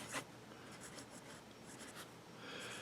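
A Franklin-Christoph 19 fountain pen inked with Noodler's Massachusetts 54 glides across Tomoe River paper, a soft, continuous close-up scratching with brief strokes and pauses, quiet and alone.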